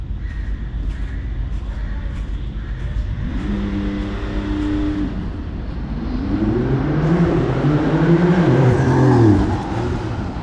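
Porsche 911 Turbo S accelerating past outdoors, first a steadier engine tone, then a louder surge climbing through several rising gear sweeps that peaks and fades near the end, with a crow cawing faintly in the background.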